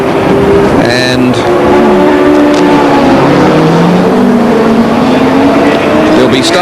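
Car number 16 pulls away in the 1993 Sandown 500 race, its engine note rising and sweeping in pitch as it accelerates hard and close, while a commentator talks over it throughout.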